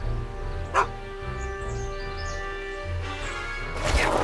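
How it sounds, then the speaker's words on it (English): A dog barks in the Back to the Future video game, one sharp bark near the start and another near the end over steady game music, with other game effects in between. "Go away, dog."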